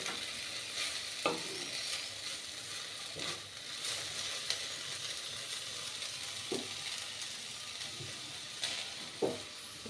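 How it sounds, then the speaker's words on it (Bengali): Okra frying under a lid in a wok gives a continuous, moderately quiet crackling sizzle, with a few sharper pops and knocks scattered through it and no talk. "ঢাকা চাপা দিয়ে মিনিট 4-5 ধরে ভেজে নিলাম"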